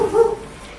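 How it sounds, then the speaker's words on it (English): A dog in the video game A Way Out gives a short, loud bark or yelp, a single brief burst that fades quickly. "That's my dog."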